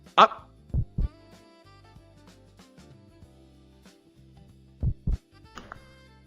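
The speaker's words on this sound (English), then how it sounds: "Oh my god, already heart beating." A heartbeat effect in a Flash game, paired low thumps repeating twice with a long gap between, loud over soft background music.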